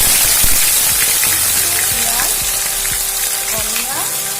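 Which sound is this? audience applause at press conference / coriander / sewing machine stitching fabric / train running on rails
coriander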